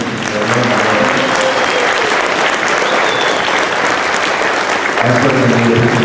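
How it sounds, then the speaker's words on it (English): An audience at a junior high school winter band concert gives loud, sustained applause to the school administration. The clapping is dense and stays even for several seconds, with some crowd murmur mixed in. "please join me in offering up a round of applause to our administration"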